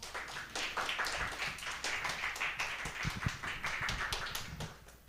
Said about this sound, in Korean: 박수해 주세요.